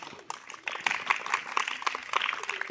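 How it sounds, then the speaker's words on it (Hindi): A group of children clap their hands together, a brief burst of dense, uneven applause-like claps, close and lively, with a faint voice underneath. "Clap your hands."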